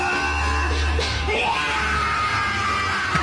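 A single long, loud yell rises and holds, a strained shouting voice, with a fainter second voice and background noise behind it.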